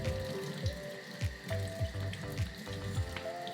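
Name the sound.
washing vacuum foot steamer part with warm tap water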